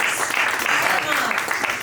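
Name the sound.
audience applauding the previous panel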